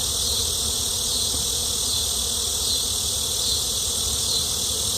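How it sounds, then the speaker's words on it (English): A dense, steady buzzing of many honeybees on hive brood frames, loud and close, continuous throughout with no voices. "Lots of bees."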